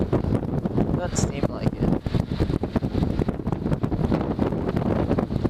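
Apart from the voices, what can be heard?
wind blowing into microphone outdoors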